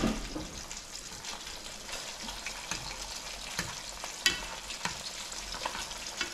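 Eggs fry in a pan for a breakfast wrap, giving a soft steady sizzle and crackle with scattered small pops, quiet and close, with no talk over it.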